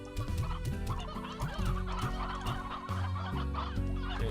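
Stony hens in the Slime Rancher video game cluck repeatedly in a busy, overlapping flock, loud and close over a steady backdrop of game music.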